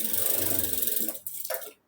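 Sewing machine stitching along the edge of blouse cups, a fast rattling whir of the needle running steadily, then slowing in short bursts before stopping.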